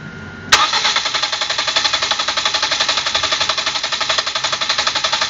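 A Ford Focus engine cranking with all injectors disconnected and the throttle held wide open, a loud starter whir with even, rhythmic compression pulses that never catch and fire.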